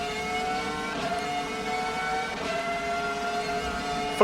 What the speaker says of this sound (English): I feel like the car sound just changed through there.